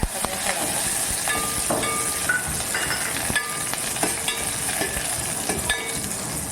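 Curry leaves are dropped into a hot pan while making a yogurt-based fasting kadhi, and a continuous loud sizzle runs throughout with scattered sharp crackles and pops.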